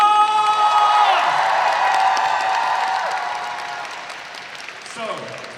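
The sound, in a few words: audience applause at cosplay masquerade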